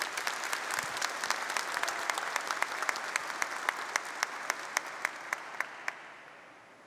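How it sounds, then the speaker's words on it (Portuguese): A congregation applauds inside a Catholic sanctuary at the start of Mass. The steady, dense clapping fills the room, then thins to a few scattered, distinct claps as it fades out. "Uma salva de palmas a todos."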